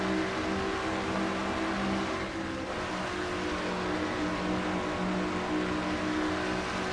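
Race cars roar around the Brickyard 400 in a stock car racing video game, a number 90 Ford running flat out among them, engines droning loud and steady with no letup throughout.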